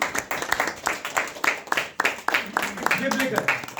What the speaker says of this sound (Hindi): आप सब बाकी भी इनके लिए तालियां बजाइए।